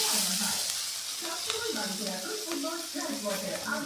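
Spices, ground coriander and chilli, sizzling with vegetables in a pan while being stirred for a vegetarian tadka; a steady loud hiss with scraping stir sounds throughout, and no talk.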